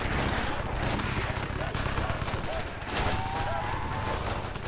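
An automated turret fires continuously in a Custom Zombies video game map, a dense, steady stream of loud gunfire filling the scene from start to finish, with a voice speaking over it.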